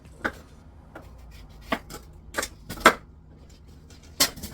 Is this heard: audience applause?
no